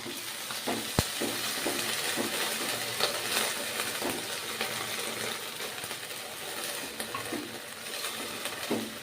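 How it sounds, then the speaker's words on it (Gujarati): Green and red chilies cook in a pan with a couple of spoons of water added for homemade chili sauce, producing a continuous close sizzle and bubbling with occasional scraping stirs and no talk. "ત્યારબાદ થોડુંક પાણી એડ કરશું બે ચમચી જેટલું"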